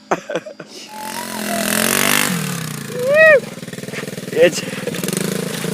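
A dirt bike motorcycle engine revs and idles nearby as its clutch is worked, rising and falling in pitch with a rough, pulsing drone, while people talk and call out over it.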